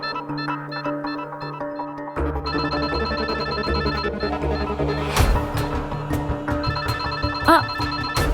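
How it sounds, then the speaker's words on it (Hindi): A mobile phone rings repeatedly with an incoming call, a bright electronic ringtone melody, steady and fairly close, over faint background music in a TV drama scene. "देखो तरुण का कॉल भी आ गया"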